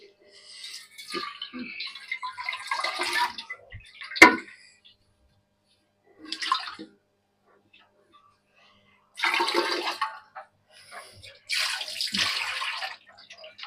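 Water is poured into a pot of Punjabi aloo kadhi, potato curry, in separate splashing bursts with quiet pauses between them. A sharp knock sounds near the start, and no one talks.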